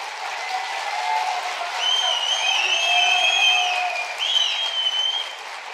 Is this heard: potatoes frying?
no